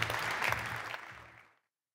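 Audience applause at a startup demo night for Benjamin Mondes of GotBag, a dense wash of clapping that holds steady for about a second and a half before tapering off into silence.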